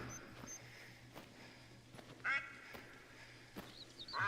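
Ducks quack faintly in theHunter: Call of the Wild, a few short quacks heard from a distance over quiet outdoor ambience, no talking.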